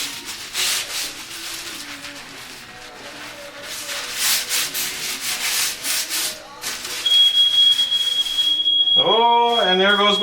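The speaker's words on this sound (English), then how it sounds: "Oh, and there goes my smoke detector." A smoke detector goes off with a steady, piercing high electronic tone while cast iron is seasoned over a grill burner. The tone starts partway through and holds unbroken to the end, and a voice briefly speaks over it near the close.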